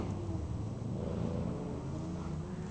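An old, ratty Chevy C10 pickup engine idling steadily, a low rumbling drone with a faint high whine above it, close and continuous throughout with no talk.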